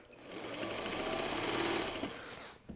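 A sewing machine stitches quilt strip sets for Turnabout Granny Square blocks, running as a steady, close, fast mechanical whir for over two seconds before slowing and stopping.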